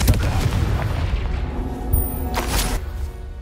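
Confringo spell explosions in the Hogwarts Legacy video game, deep booming blasts with sharp impacts near the start, around two seconds and two and a half seconds, over a continuous loud rumble.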